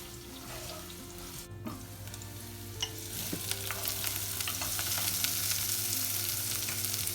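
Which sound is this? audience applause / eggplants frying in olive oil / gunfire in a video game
eggplants frying in olive oil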